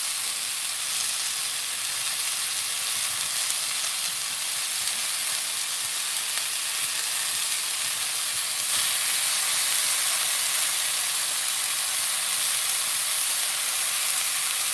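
King trumpet mushrooms fry in a pan, giving a steady, close hiss and sizzle that holds evenly throughout and grows slightly brighter partway through.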